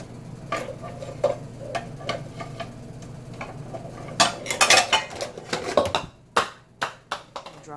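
A bowl and strainer being handled while sea moss gel is made: scattered clinks and knocks of kitchenware, sparse at first, then a busier burst of clattering followed by several sharp, evenly spaced taps.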